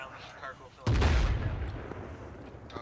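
Mortar fire in the Arma video game: a single heavy blast lands abruptly with a deep rumbling tail that slowly fades, set against a low background bed with faint chatter.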